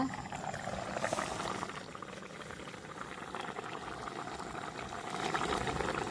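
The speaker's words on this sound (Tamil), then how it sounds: "ஃபுல்லாக கொதிச்சு கொண்டு இருக்குது மண் சட்டி தானே அடுப்பில்" A clay pot of tomato and prawn curry bubbles at a full, steady boil on a stove, a continuous close-up burble of liquid with no talking.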